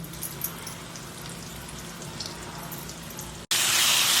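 Mustard seeds, cumin, coconut, ground spice paste and asafoetida crackle and fry in hot oil for kadhi, a steady close sizzle that suddenly swells louder near the end as more goes into the pan.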